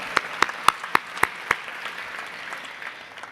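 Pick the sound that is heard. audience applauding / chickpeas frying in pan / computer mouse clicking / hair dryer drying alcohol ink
audience applauding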